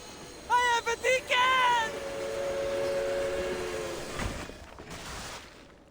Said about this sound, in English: The train thunders as it grinds to a stop.